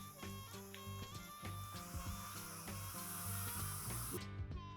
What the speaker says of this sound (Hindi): अब ये चिप्स जाएंगे एक एक करके तेल में, इनको भी फटाफट फ्राई कर लेते हैं।